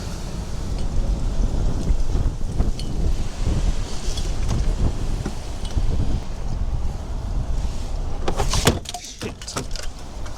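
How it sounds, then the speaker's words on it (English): Strong outdoor wind buffets the microphone in a steady, rumbling roar during a Ford Transit clutch master cylinder repair, with a brief burst of clattering near the end. "It's really bloody windy today though"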